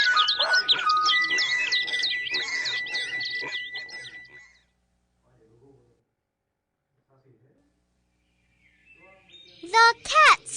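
A lively burst of high, warbling bird chirps opens the clip over a steady tone, fades to near silence, then a sharp squawking call returns at the end.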